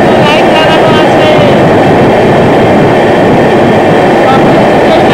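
A passenger train running from Kolkata toward Sairang rolls through a long tunnel, a loud, constant, enclosed rumble of wheels and carriage noise with faint rhythmic clatter throughout.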